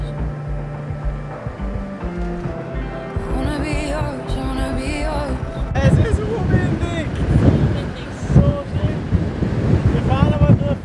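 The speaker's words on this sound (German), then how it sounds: "Da ist schon das Meer" Wind buffets the microphone over surf and sea waves on the coast of Gökçeada, the rush growing louder and gustier in the second half, with people talking now and then over it.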